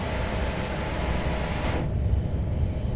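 Simulated Swiss RABe 523 standard-gauge electric train running in Train Sim World 2 on the Luzern–Sursee route, a steady loud rolling rumble with a high whine that drops away partway, no talk.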